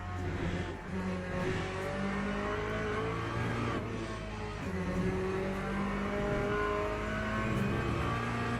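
In the Gran Turismo 7 video game, race car engines rev up and shift through gears in repeated rising sweeps, with occasional tire squeal, all at a moderate level without any talking.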